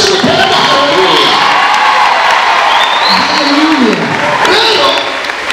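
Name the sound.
congregation clapping and cheering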